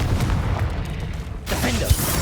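A Confringo blasting spell goes off in Hogwarts Legacy, a booming blast heard amid busy game noise with a voice speaking over it and a sharper burst near the end.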